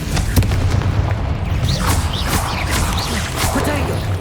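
A Confringo fire spell explodes in Hogwarts Legacy, giving a loud, dense booming blast with crackling debris. It sits under a continuous wash of game effects for a few seconds.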